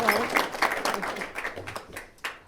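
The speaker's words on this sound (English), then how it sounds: "Let's give a round of applause there." Applause following a wedding speech, a crowd of guests clapping steadily at moderate volume, the patter thinning out toward the end.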